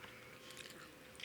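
Faint, close crunching and biting on crispy roast pork skin from lechon baboy, a short soft burst of chewing with no talk.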